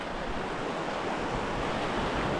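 Water swirls through potholes at the foot of a rock, a steady rushing wash with no pauses and no voices.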